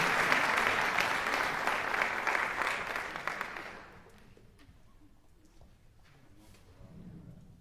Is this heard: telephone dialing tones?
no